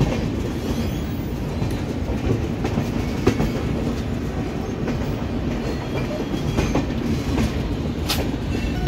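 Amritsar–Howrah Mail (13006) running into Lucknow, a steady loud rumble of wagons with rhythmic clickety-clack of wheels over rail joints throughout, heard from on board with no talk.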